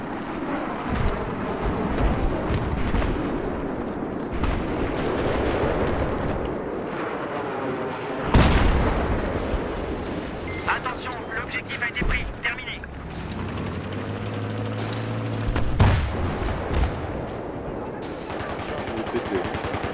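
Gunfire from a Battlefield 3 match on the Caspian Border map, with repeated shots and bursts including a loud hit near the middle and more firing toward the end, set against continuous battle noise while a voice talks over it.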